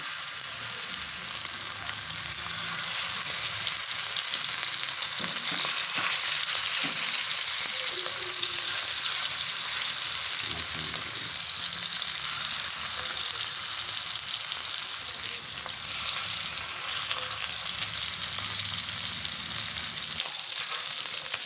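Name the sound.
mackerel fish frying in oil on a hot pan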